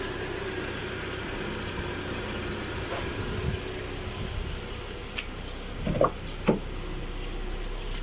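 Car engine idling steadily after the battery kill switch is cut, a low even hum with a few faint knocks and clicks near the end.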